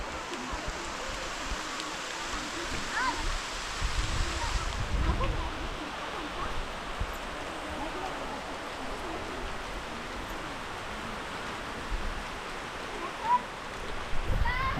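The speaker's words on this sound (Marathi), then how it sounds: "पुन्हा एकदा पाऊस आलाय येतोय जातो असं चाललंय" Rain falls steadily outdoors over paddy fields in the Konkan region during rice transplanting, a continuous broadband hiss with a brief heavier burst partway through and faint voices in the background.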